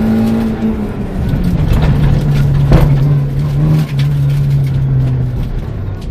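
Onboard a VW Polo 1.4 rally car on a stage at Blyton Park: a loud, close engine drone holding a steady pitch, with one brief gear-change dip and loose rumble underneath.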